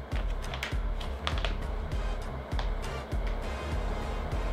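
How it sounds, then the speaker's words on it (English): Keys clack on a mini Bluetooth keyboard in steady, close bursts of typing, each press a short distinct tap. "Mini Bluetooth keyboard."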